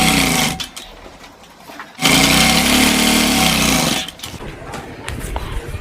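A sewing machine stitches along the hem edge of a gents' kurta, running loud and close in bursts, stopping briefly and then continuing in a long unbroken run.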